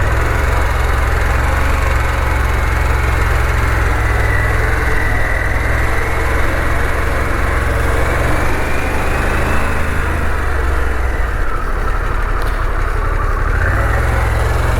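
Harley-Davidson Pan America motorcycle engine runs loud and close, a steady, throaty idle with continuous low rumble and a slight shift in tone near the end, with no talking.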